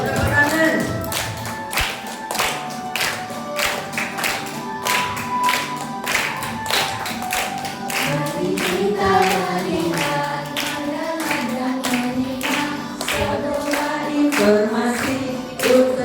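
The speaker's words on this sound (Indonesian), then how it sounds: "Sambil duduk sambil tepuk tangan ya" Seated elementary school pupils clap their hands in a steady, regular rhythm along with a sung melody, the sharp claps clear and near over the music throughout.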